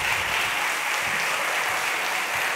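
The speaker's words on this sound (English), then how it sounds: "join me once more in giving Rufus another round of applause" Steady applause from an audience at an Adobe creative meetup in London, honouring presenter Rufus Deuchler; dense, even clapping held at one level throughout, with no voices rising above it.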